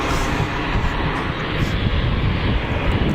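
An Air France shuttle airliner from Charles de Gaulle at Geneva Airport produces a loud, close jet engine roar that stays steady throughout, with slight swells in intensity and no speech.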